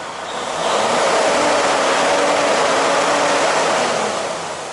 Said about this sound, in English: Now rev the engine with the loads on.